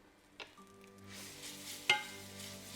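Green chili and spices tempering in ghee, a soft hiss of sizzling that swells gradually, punctuated by a couple of light clinks, over faint background music and no voices.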